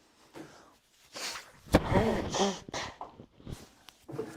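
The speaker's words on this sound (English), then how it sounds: "So I'm going to have to blow my nose again." Someone blows their nose in a few forceful, wet bursts, with sniffs and rustling between them, close to the listener.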